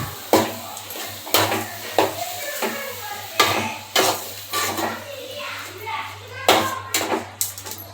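Spoon stirring tomato thokku with turmeric in a pan on the stove, scraping and clinking against the metal at irregular intervals, close and fairly loud over a steady low hum.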